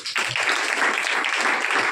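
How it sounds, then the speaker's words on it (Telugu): A church congregation gathered for a New Year service claps together in a brisk, dense burst of applause that starts abruptly and continues steadily for about two seconds. "చప్పట్లు కొట్టండి."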